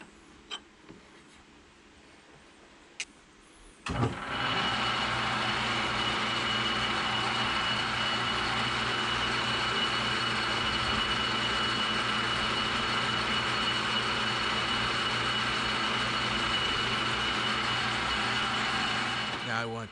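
A South Bend lathe makes a light threading scratch pass with the gearbox engaged. After a few faint clicks and quiet seconds, the machine starts abruptly and runs at a steady, loud mechanical hum and whir that continues to the end.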